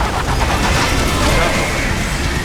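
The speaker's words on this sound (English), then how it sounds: "They swapped out the hydraulic cutter for a plasma cannon." A plasma cannon in Metal Gear Rising fires in a dense, loud burst of crackling blasts that runs continuously through the short moment, with a voice faintly present underneath.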